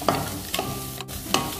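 Dried red chillies and cashews frying in oil in a pan while being stirred, a steady close sizzle with a few sharp scrapes of the spoon, no talking.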